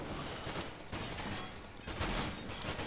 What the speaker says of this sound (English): Oh, I'm being shot at already